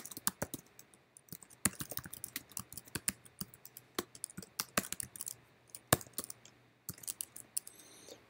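Quiet computer keyboard typing of Java code, with irregular bursts of crisp key clicks and short pauses, close and alone.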